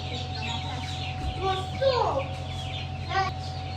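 Newly hatched chicks fresh from an incubator cheep in short, high chirps at close range, mixed with a few clucks over a steady low hum, with faint voices nearby.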